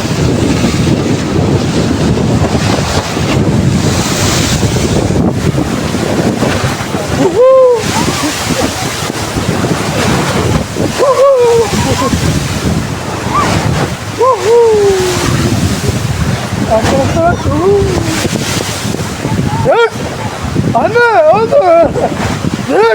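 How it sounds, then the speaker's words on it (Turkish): Sea waves crash and surge at Mudanya in Bursa under strong, constant wind buffeting. The water roars loud and close throughout, with excited voices calling out over the surf. "çok güzel dalgalar var"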